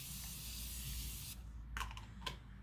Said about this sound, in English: I'm gonna spray it down a little bit with my Morphe continuous setting spray